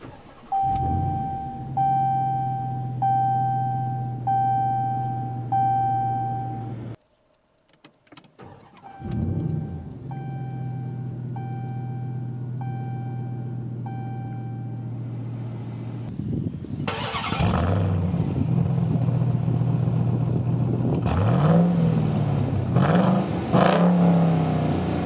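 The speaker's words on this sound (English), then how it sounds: "at the heart of the RAM TRX is the engine, so let's press the start button and start it up." A 2021 Ram TRX pickup truck with chimes sounding twice, then the engine cranks and starts, and it revs loudly with rising and falling surges while idling close by.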